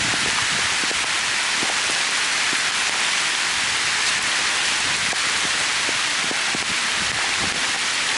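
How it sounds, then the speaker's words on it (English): Heavy rain from a massive shower falls steadily on a downtown memorial with lights and hard surfaces, a dense unbroken hiss with scattered close drips and some wind buffeting the microphone. "We're going through a massive shower right now."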